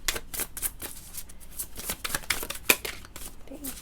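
Tarot cards being shuffled by hand: a close, rapid run of crisp riffling and flicking strokes that comes in uneven bursts, with no voice heard.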